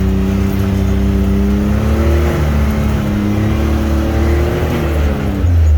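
A Can-Am X3 side-by-side climbing a steep snowy trail, its engine a loud, steady droning growl with pitch that slowly rises and dips under load, continuous throughout with no voices.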